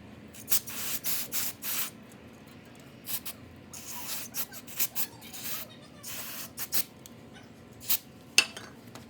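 Carb cleaner sprayed onto a 2011 Yard Machines lawn mower engine, heard as a series of short hissing spray bursts, close and fairly loud, with brief pauses between them.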